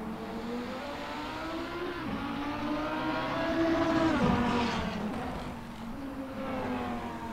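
A race car in a sim racing game at Laguna Seca slows into the pits, its engine note rising and falling through downshifts, steady and fairly close with no talk over it.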